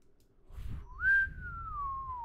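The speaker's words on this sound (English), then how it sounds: "You just hear a whistle come from her, like, that long time." A person whistles a single long note that slides up and then glides slowly downward, clear and close in an otherwise quiet room.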